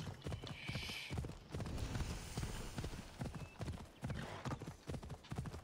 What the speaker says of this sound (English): Surely we can sprint on the horse.